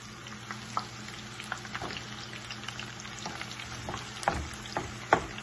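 Chopped onion sizzles and crackles in hot oil for a Ghanaian vegetable stew, a steady frying hiss broken by scattered pops and a few louder spits, heard close with no talking.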